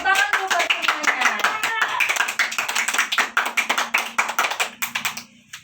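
A classroom of children claps together in quick rhythmic bursts, loud and close, with children's voices mixed in at the start before the clapping thins out and stops.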